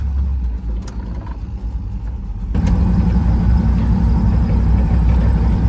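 A 1986 Camaro IROC-Z engine rumbles steadily while driving, with a loud low drone that grows fuller partway through and a faint rattle mixed in.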